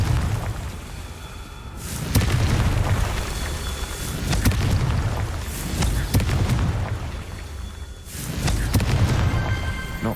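Confringo fire spell bursts in Hogwarts Legacy, blasting rocks: a few heavy booming explosions with rumbling swells, repeating at intervals amid game ambience.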